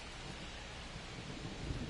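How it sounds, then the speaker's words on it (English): Steady rain with a low thunder rumble in the MLB 25 baseball video game, a constant broadband wash at moderate level that swells slightly near the end, with no voices. "It feels like we might be headed towards a rain delay if the weather doesn't ease up, Chris."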